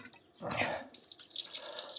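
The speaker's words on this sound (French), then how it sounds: "Donc là je suis en train de faire le plein d'eau ici." Water runs into a camper van's tank in a short, uneven splash and gurgle, with a louder burst early on and then lighter dripping and trickling.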